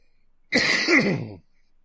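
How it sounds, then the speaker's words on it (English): A single hacking cough or throat-clear, close and brief, rising sharply out of near silence and lasting under a second before cutting off. "As I then have a hacking cough"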